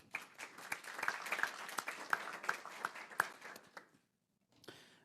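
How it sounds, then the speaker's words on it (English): Audience applause at a school governing board meeting, moderate and somewhat distant, with scattered sharp claps over about four seconds before it dies into silence and a brief rustle. "One more round of applause."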